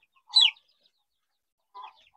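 A chicken clucks twice on a poultry farm, a sharp close cluck followed by a softer one after a pause, against near silence.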